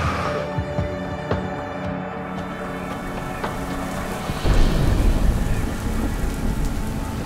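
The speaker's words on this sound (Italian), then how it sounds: "adesso viene giù a secchiate" Heavy rain pouring down beside a mountain tunnel in the Alps, a dense continuous roar with scattered drips and splashes that swells louder partway through.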